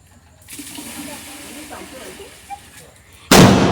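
A firecracker going off at a Vishu celebration: one loud sharp burst near the end, after a stretch of faint hiss, a few small pops and quiet voices in the background.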